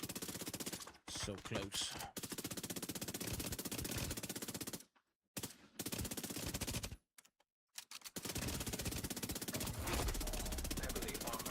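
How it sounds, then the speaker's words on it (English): Rapid SMG fire in Tom Clancy's The Division 2, long, fast, evenly spaced bursts broken by short gaps, with a brief spoken remark near the start. "Should just use my SMG."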